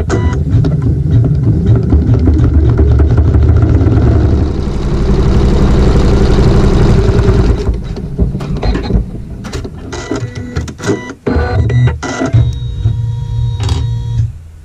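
A sewing machine runs a long, loud, rapid stitching burst along a seam in white floral quilting fabric, then breaks into shorter start-stop runs separated by clicks and brief pauses.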